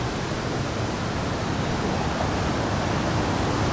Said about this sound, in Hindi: पानी इतना ज़्यादा आवाज़ कर रहे हैं ना, झाऊ झाऊ झाऊ झाऊ कर रहा है